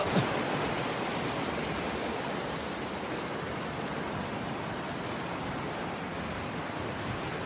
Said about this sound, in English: Here's the outflow creek going down the mountain.